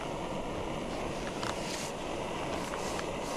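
Wind gusts across a campsite in France, a steady, blustery rush buffeting the microphone with no one talking.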